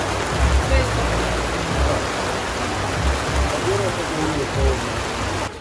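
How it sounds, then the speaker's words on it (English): Steady, dense rain pours down in Croatia while the sun shines, with a constant broadband hiss and occasional low thumps and rumbles underneath. "Here we have pouring rain and sun at the same time"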